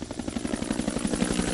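American military helicopter approaching in a Vietnam War battle scene, a steady rhythmic rotor thump with engine roar, fairly loud and continuous with no voices.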